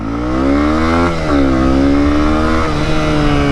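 A Honda CB 250 R motorcycle accelerates hard, its engine note climbing through the revs, dropping briefly at a gear change, then rising again, loud and close.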